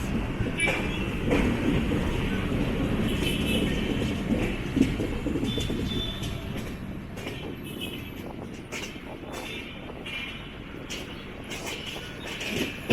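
The Netravati Special train rolls into platform 4 at Kozhikode station with a steady rumble and faint wheel clatter, heard from on board and easing slightly in loudness as it slows, with scattered clicks and no talk.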